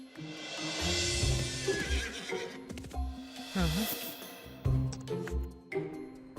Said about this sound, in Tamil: இந்த குதிரை இந்த செவரை எவ்வளவு ஈஸியா தாண்டுதுன்னு